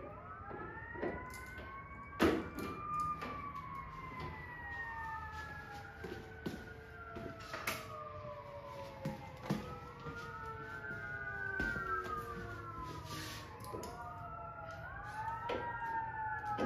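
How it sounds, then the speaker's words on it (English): Fire truck siren wailing as it passes outside a garage, rising and falling in repeated sweeping cycles at moderate distance, with sharp clanks and knocks of nearby work mixed in. "I had to wait for the fire truck to go by, it was getting loud."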